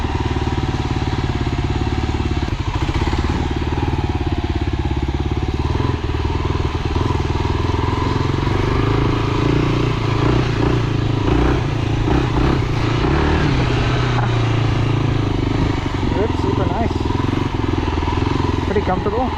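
A light Kawasaki KLR motorcycle runs with a steady, continuous engine drone and some clatter throughout while a rider talks over it.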